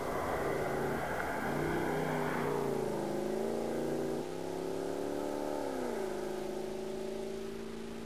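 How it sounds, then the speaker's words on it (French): Mercedes-Benz CLK 63 AMG Black Series V8 revving steadily and close, its pitch climbing and dipping in smooth sweeps as the engine speed changes, with a rich continuous drone and no voices. "la belle change de sonorité au gré des tours minutes, avec un chant de V8"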